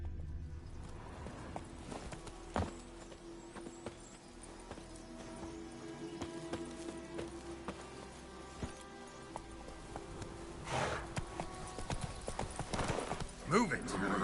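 Hooves of a horse galloping in The Witcher 3 patter quietly and rhythmically in the background, with a person talking over them and a few louder thuds near the end.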